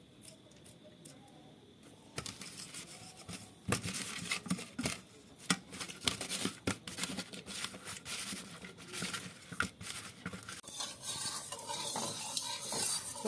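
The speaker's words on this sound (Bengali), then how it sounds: "সর্ষের তেলটা গরম হয়ে গেছে বন্ধুরা।" Mustard oil heats in a pan for a fish curry. A quiet start gives way to busy sizzling, with sharp utensil knocks and stirring clatter close by, and no voices.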